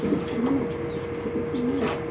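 Soft, low pigeon coos repeat in a few rolling phrases over a steady background hum, fairly close.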